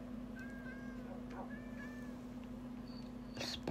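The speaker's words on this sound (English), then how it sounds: "Let's buy yourself a cat." A cat meows in a city-life video game, several rising and falling meows spread across a few seconds over a steady game background hum, ending in a brief louder burst.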